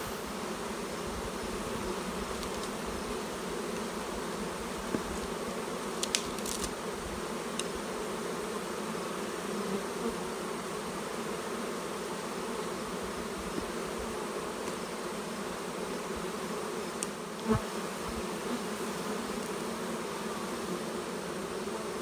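A honeybee colony at the hive front, its entrance packed with pollen, gives a continuous dense buzz of many bees close by, steady throughout with a few louder passes of single bees.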